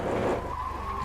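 A car skids hard under braking in the Brick and Driver driving game, a short, loud tire squeal with a rising whine over the engine noise.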